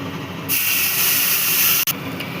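Dried red chillies sizzle as they fry in hot oil for Bengali macher bhapa: a loud, steady hiss bursts in suddenly, holds for about a second and a half, then cuts off sharply, with no talking.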